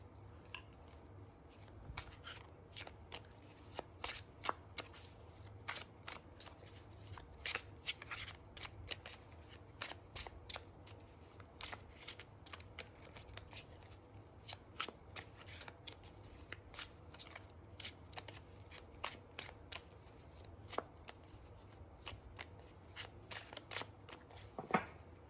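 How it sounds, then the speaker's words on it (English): Shadow Seer tarot cards being shuffled by hand, a steady run of crisp riffling snaps and soft slides repeating throughout, close and fairly quiet with no talking. "So let's see how these shuffle."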